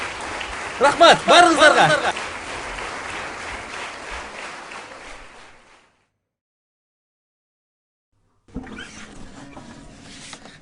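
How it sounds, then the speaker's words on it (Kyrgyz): Audience applause breaks out loudly, with a few laughs or shouts over it, then dwindles and fades to silence, after which someone speaks briefly. "Дагы бир жолу кайнатама дүркүрөтө кол чаап койсоңуздар"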